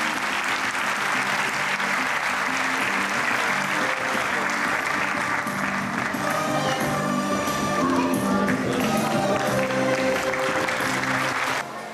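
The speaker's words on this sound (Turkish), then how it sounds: "alkışlarınızla sahneye davet ediyoruz" Sustained audience applause fills a concert hall at a tribute event in Selçuklu as a professor is welcomed to the stage, dense clapping steady and loud throughout before easing off at the very end.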